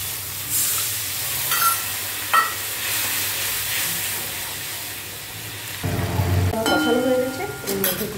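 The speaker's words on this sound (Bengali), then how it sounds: "এরপর এটাকে ভালো করে একটু কষিয়ে দেবো।" Food sizzles steadily in a pan while it is being sautéed, a continuous close hiss with occasional utensil clinks and stirring scrapes, swelling louder near the end as it is stirred more vigorously.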